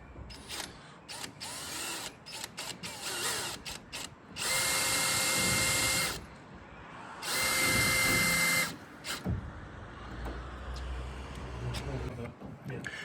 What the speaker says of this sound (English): We're now just going to re-drill some of the holes which will clamp into this wood to pull it in.